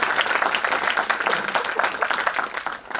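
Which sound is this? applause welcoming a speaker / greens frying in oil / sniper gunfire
applause welcoming a speaker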